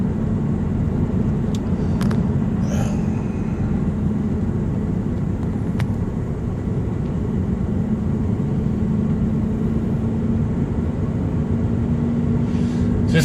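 A car cruising along the highway from Fort Morgan to Denver, a steady loud engine and road-tyre drone inside the cabin with occasional faint clicks and no talking.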